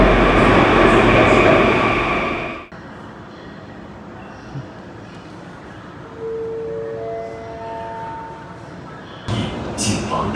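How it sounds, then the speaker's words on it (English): A loud rushing rumble of a subway train arriving in Kunming, China fills the space, then drops off sharply, leaving quieter station ambience with a brief tonal chime. "Okay, the subway is coming"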